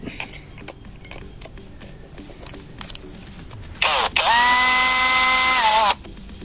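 A cordless drill bores into concrete in second gear: about two seconds of steady, loud high-pitched whine with a brief dip partway, following a stretch of quieter handling clicks and knocks.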